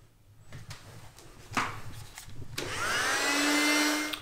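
A USB mini vacuum cleaner whirs up after a few soft clicks and handling knocks, its motor settling into a steady high whine close by.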